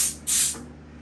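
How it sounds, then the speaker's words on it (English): A short burst of compressed air hisses into the chuck of a Triumph NTC-950 tire changer machine, rising abruptly, holding briefly, then tapering off. "if you lightly press this fourth pedal right here, that puts air to the chuck"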